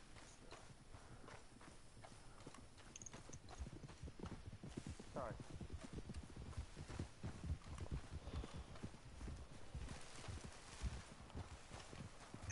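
Hooves of three horses pulling a loaded wagon clip-clop in a steady walking rhythm, close and continuous, while people talk over them.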